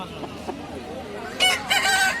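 An Aseel rooster at a poultry market in Odisha gives a short crow that rises out of a murky background of market noise near the end, fairly close and clear.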